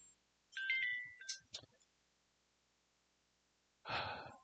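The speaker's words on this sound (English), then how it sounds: "My phone is ringing." A phone ringtone plays a short, faint melodic phrase of rising electronic notes in a quiet room, followed later by a breathy sigh.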